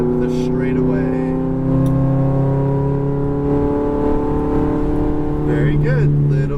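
A Ferrari F430 on a race track drives a loud, steady, close engine drone that builds under acceleration, with a strong harmonic growl that holds throughout.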